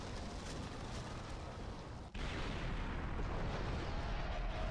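A Vortex grenade blast in the video game Fracture, a loud, dense, roaring rumble with a brief cut midway before the churning noise resumes and sustains.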